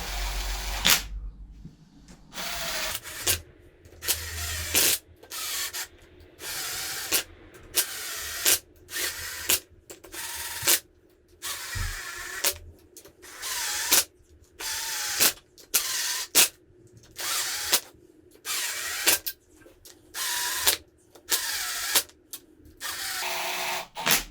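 A power tool runs bolts into a V6 engine in repeated short bursts of whirring and ratcheting separated by brief pauses, close by with no talk.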